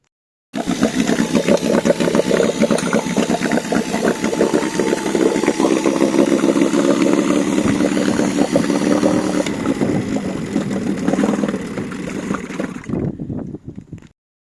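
A 1974 Yamaha two-stroke twin-cylinder engine runs steadily and loudly for about thirteen seconds, close by with a busy, buzzing idle and no talking, then cuts off abruptly into silence.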